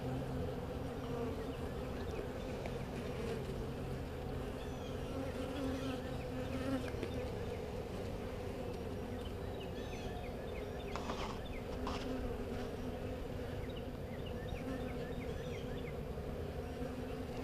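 A dense, steady hum of many honey bees buzzing close by while a nuc is installed into a hive, continuous throughout, with occasional brief puffs of air blown onto the bees.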